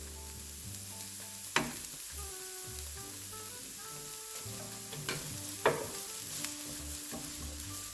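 Minced garlic frying with parboiled veggie hash in a pan, a steady sizzle broken by several scraping stirs of a utensil against the pan, close and moderately loud.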